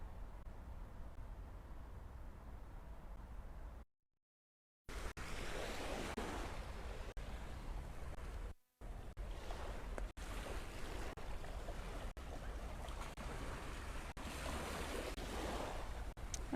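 Surf breaking on the Aarhus coast, a steady broad wash of waves with wind buffeting the microphone, continuous and fairly close, with two brief dropouts near the start.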